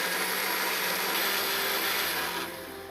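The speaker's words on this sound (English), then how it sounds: "I'm going to start my blender here just to mix this up" A blender mixes milk and three whole eggs into crepe batter, giving a steady, loud motor whir that runs for about three seconds before easing off at the end, with no talking over it.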